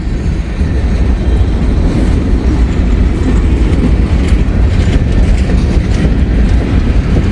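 A slow-moving CSX freight train rolls steadily past close by, a continuous loud rumble of railcars with a faint clickety-clack of wheels over rail joints throughout, no voices.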